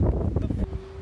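Gusty wind buffets an outdoor microphone near a public fountain, a loud rough rumble with a voice briefly under it and a faint steady tone toward the end.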